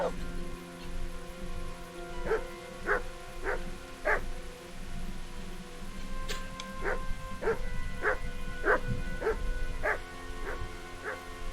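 Dog barking in the medieval game Kingdom Come: Deliverance, a series of sharp repeated barks spaced every second or so over steady background ambience and faint rain-like noise.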